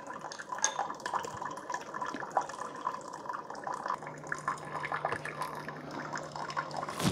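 Cuisinart SS-12 coffee maker dispensing hot water during its first brew, a steady trickling and dripping stream that runs continuously at moderate level, with a faint low hum joining partway through.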